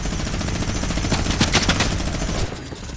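Rapid gunfire from the ninja turtles sounds as a loud, dense, continuous burst of shots that fills nearly the whole moment and then cuts off abruptly, with no talking.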